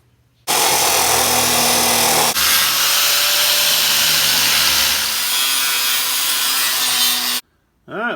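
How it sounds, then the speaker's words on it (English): A power tool grinds paint off the bare steel of a new transmission crossmember for an 88 S10 pickup, a loud, steady abrasive whine running about seven seconds with a shift partway through, then a brief pause. "we got our paint ground off"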